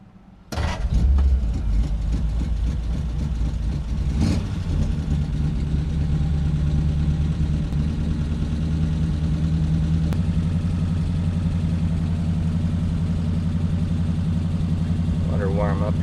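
A 1940 Ford Deluxe convertible engine starts with a loud burst and then settles into a steady, rumbling idle as it warms up, close and continuous, with a brief voice near the end.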